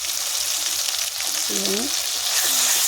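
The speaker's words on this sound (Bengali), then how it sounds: "মশলাটাকে আবারও ভালো করে কষে নেব" Masala with salt and turmeric is sautéed in a pan, giving a loud, steady sizzle close by, with a short spatula scrape partway through.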